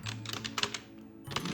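Typing on a computer keyboard while writing a document in MS Word 2007: steady, close clicking keystrokes in quick succession, no talk.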